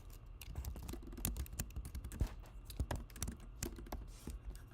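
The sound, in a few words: typing on a computer keyboard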